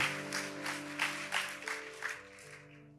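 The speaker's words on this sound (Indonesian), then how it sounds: "Kasih tepuk tangan yang paling dahsyat" A church congregation at a Sunday service claps in a loose rhythmic pulse of about six beats under sustained organ or keyboard chords, fading toward the end.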